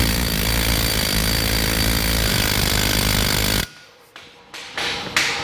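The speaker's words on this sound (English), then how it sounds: "then use our air hammer to run them the rest of the way in" A pneumatic air hammer runs continuously, a loud dense rattling hammering that drives old bushings into a rebuilt farm implement gang, then cuts off abruptly, leaving a few short light clanks and taps in a quieter shop.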